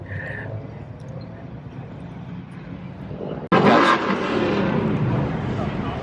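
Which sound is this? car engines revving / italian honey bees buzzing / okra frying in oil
car engines revving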